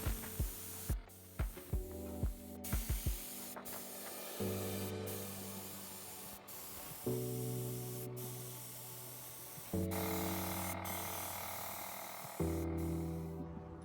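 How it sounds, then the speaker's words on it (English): A 20-ounce gravity-fed air sprayer hisses steadily while applying gray base coat paint to a flat-bottom boat, running in long continuous bursts separated by brief pauses, with a few sharp clicks at the start. "To apply the base coat, I used a 20-ounce gravity-fed air sprayer."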